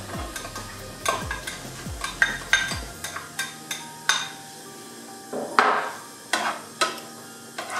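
Garlic and onion for fried rice frying in oil in a pan, with repeated scraping stirs and clattering utensil hits over a steady close sizzle, no talking.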